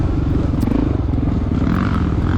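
A 1993 Honda XR600R dirt bike ridden in an off-road cross-country race, a loud, close, steady thumping engine drone with rough rhythmic pulsing and no break over the whole stretch.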